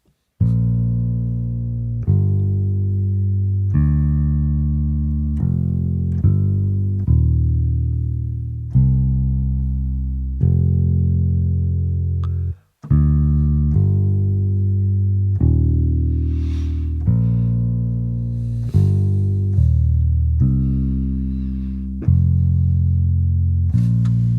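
A deep, low bass line plays alone, a steady sequence of sustained notes with a short break partway through.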